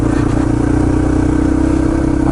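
A Yamaha TT-R230 dirt bike engine runs steadily and loudly up close at Windrock Park, with an even throbbing idle and no voices.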